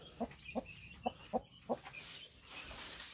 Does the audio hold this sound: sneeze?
no